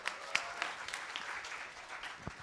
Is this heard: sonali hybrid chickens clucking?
no